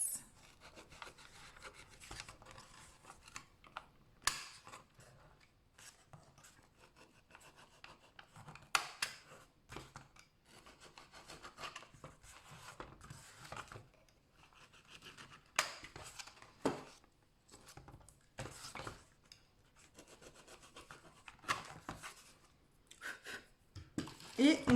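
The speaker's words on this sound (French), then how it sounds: "On va couper tout ce qui dépasse." Excess material is trimmed off while assembling a smiley-face clock, giving close, intermittent rasping and rubbing cuts in uneven bursts, with some speech at times.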